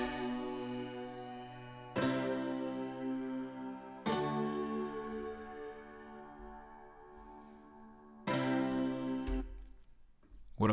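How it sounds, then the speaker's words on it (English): A grand piano processed with compression, chorus and saturation plays sustained chords, each struck anew about every two seconds and ringing out smoothly in between, clear and alone. "What I've done on that grand piano is a bit of compression, chorus, and some nectar."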